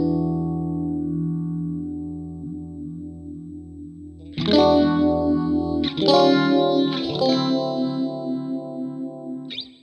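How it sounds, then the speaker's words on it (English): Electric guitar through the pan phaser effect on a Sonicake Matribox 2 pedal, a sustained chord then strummed chords swirling with a slow sweeping, wavering modulation. "Pan phaser, a special subtle phaser combines tremolo and pan"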